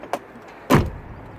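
A 2005 VW Golf locking, with a faint click followed by a louder, close mechanical clunk of the central locking, heard alone.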